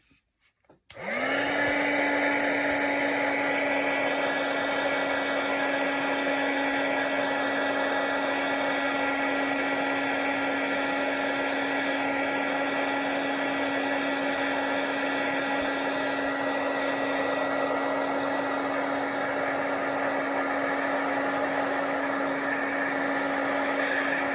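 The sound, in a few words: hair dryer blowing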